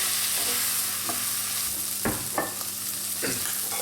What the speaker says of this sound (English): While those veggies are browning off